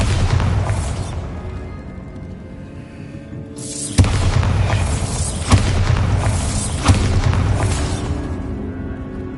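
A Bombarda blasting spell going off in a Harry Potter game, a heavy booming blast followed by a few more thumping bursts over a loud rumbling bed of sound.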